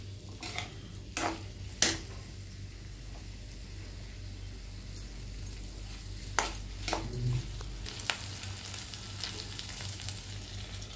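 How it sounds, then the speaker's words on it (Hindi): Potatoes and vegetables for vegetable khichdi fry in a pan as they are stirred. A soft, steady sizzle runs throughout, broken by occasional utensil scrapes and light clinks against the pan. "तो इनको भी आप इसमें डाल के फ्राई कर लेंगे। सभी चीज़ों को अच्छे से हमको भूनना है।"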